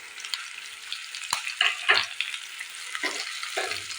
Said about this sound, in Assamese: গোটেইখিনি মই ভালদৰে ভাজি ল'ম।